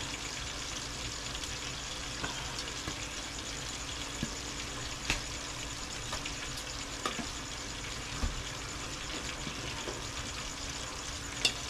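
Tulingan fish fries in very hot oil, a steady close crackling sizzle that runs throughout with occasional sharper pops and light stirring clicks, and no one talking.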